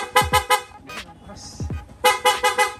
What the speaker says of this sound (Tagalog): Ito po yung stock horn.